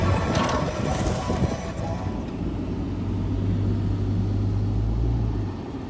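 A Hemi-powered plow truck rolls through snow during a blizzard, its engine a low, steady drone under light throttle. The hum stays close and even, with road and wind noise around it and no voices.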